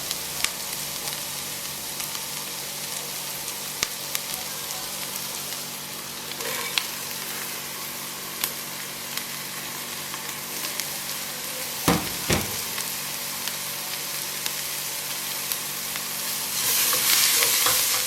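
Onions cooking down in a pot for red chowder, with more vegetables going in, give a continuous broad sizzle and bubbling hiss with occasional light stirring knocks, steady and fairly close throughout.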